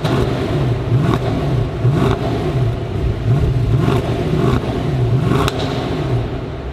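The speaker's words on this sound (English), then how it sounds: "You should go rev it because I want to hear what it sounds like from over here." Mercedes E63 AMG engine revving, heard from a short distance: a loud continuous engine roar that rises and falls in repeated rev swells with faint clattering throughout, no talking.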